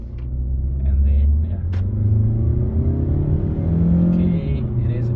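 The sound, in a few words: car engine revving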